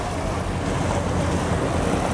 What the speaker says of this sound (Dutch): Er is een jetski gesignaleerd die zich wat te snel door het water leek te verplaatsen.